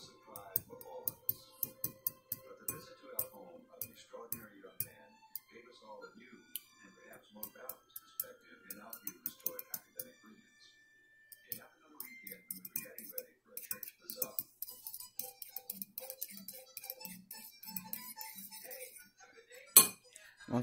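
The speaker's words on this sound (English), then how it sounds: "what I usually do is I just use a fork to kind of stir it up" A fork clinks and taps rhythmically against a bowl while whisking eggs seasoned with salt and pepper, a quick run of light metallic ticks at close range with a person talking intermittently over it.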